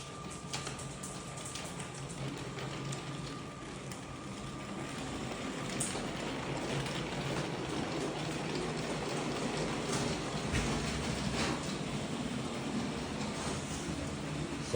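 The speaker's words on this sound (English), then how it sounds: "Let's go ahead and give it a test run around the track." A rebuilt model cargo train runs around a layout track, giving a steady, continuous rumbling whir with faint clicks from the rails, close and even in level throughout, with no talking.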